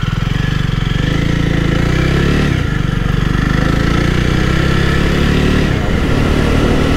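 A Jawa Forty-Two motorcycle engine idling close by, a steady loud rumble that holds without a break for the whole stretch.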